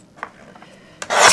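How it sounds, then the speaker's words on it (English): A paper trimmer cuts through 80-pound cardstock, a few soft rubs and scrapes followed by a sharp rasping slice, close and alone without talking. "So this is simply 80-pound cardstock, and I'm going to trim this"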